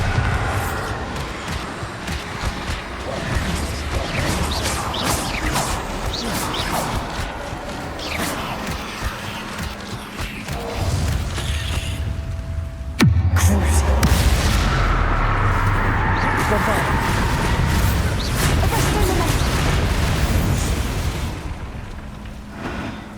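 Booming blasts from the Bombarda explosion spell in Hogwarts Legacy, loud and repeated over a long stretch of game combat, with a heavier burst partway through and a continuous rumbling background between the impacts.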